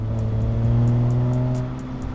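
A 2026 BMW M440i convertible engine hums at a steady, raised pitch nearby, swelling slightly then easing off, with a faint regular ticking above it.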